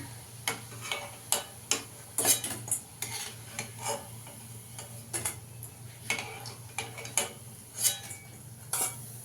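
Koftas frying in a pan bring sharp clinks and scrapes of a utensil against the pan, irregular and close, over a faint low sizzle and hum.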